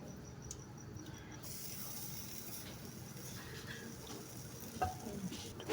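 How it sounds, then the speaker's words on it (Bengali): Sandwich frying in Red Cow butter in a pan, a steady soft sizzle running throughout, with faint scraping and a brief louder clatter near the end. "আমি রেড কাউ বাটার দিয়ে এটা গরম করে নিলাম"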